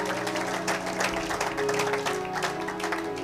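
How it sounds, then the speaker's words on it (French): A church congregation applauding during a worship service, steady dense clapping with crowd noise and a sustained musical tone underneath. "Acclamez pour la gloire de notre Dieu"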